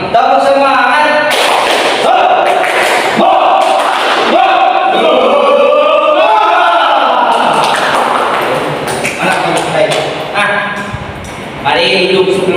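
A school class performing the tepuk semangat spirit clapping routine, loud rhythmic claps with children chanting and shouting together in a classroom.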